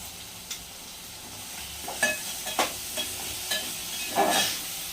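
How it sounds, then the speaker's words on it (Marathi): Stirring of a cashew and potato curry in a pan, with soft scraping strokes and a few sharper clinks at irregular intervals over a low background sizzle, close and fairly quiet. "मग असं छान पिठी त्याला ढवळून घ्यायचं."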